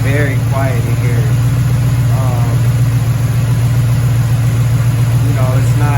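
Chevrolet Impala engine idling loudly with a constant deep, droning hum that is close and heavy throughout, while someone talks over it inside the car after work on vacuum leaks.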